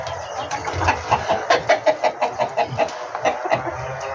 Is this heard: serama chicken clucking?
yes